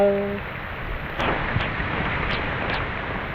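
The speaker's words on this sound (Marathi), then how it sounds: "इकडं पाऊस आला" Steady hiss of rain falling, with a few brief taps of drops hitting a surface.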